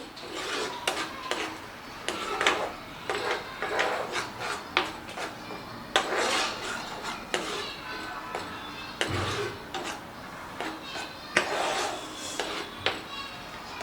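Roasted tomato soup with ground black pepper being stirred in a pot, with repeated close scraping and rubbing strokes in an irregular rhythm and occasional knocks against the pot.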